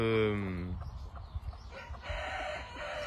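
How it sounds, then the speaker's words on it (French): A blue Phoenix hen in a poultry yard gives a loud, drawn-out call, followed by softer broken clucks and scratchy shuffling nearby. "là c'est une poule phénix bleue il me semble"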